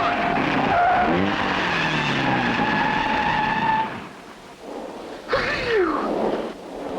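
A cartoon car skids hard toward a brick wall blocking the road, its tires squealing loudly for several seconds before the sound cuts off, followed by a brief sharp squeal and rumble.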